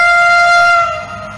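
A Warsaw train sounds a loud, sustained horn tone nearby, steady at first and then fading slightly as it passes.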